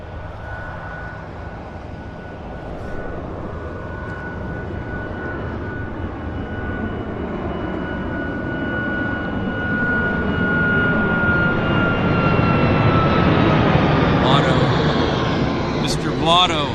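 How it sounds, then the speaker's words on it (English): An airliner taking off from Vancouver Airport for Honolulu, its jet engine roar building steadily and swelling louder toward the end, with a voice talking over it throughout. "these guys are getting airborne for Honolulu"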